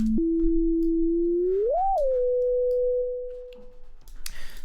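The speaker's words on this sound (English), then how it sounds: "now we have a nice sine wave" A pure sine tone from a Max/MSP oscillator holds a steady low pitch, rises and bends back down, then settles on a slightly higher steady pitch, clean and alone before fading, with faint clicks at the end.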